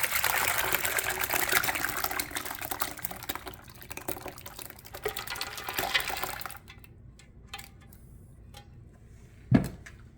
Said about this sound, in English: So it's where I'm going to sieve it.